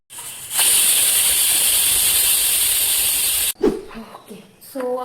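A loud, sustained pressure cooker whistle while cooking chickpeas, hissing steadily for about three seconds, then cutting off, followed by brief kitchen clatter and a short voice.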